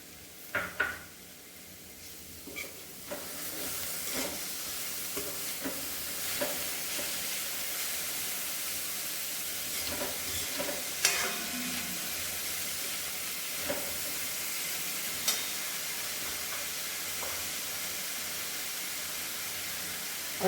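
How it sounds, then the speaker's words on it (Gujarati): Shredded cabbage sautéing in a pan as veg frankie filling, a soft steady sizzle with occasional stirring scrapes and clinks, fairly quiet and close, with no talking. "હવે આપણે આ કોબી છે એને થોડી વાર માટે સાતળવા દઈશું"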